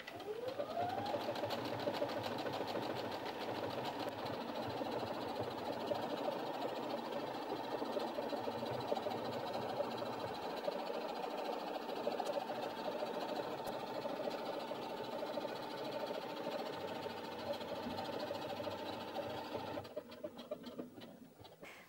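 A Brother Innov-is F420 sewing machine runs steadily for a long stretch, its fast motor whir and needle chatter continuous and close, ending with a brief burst of clicks.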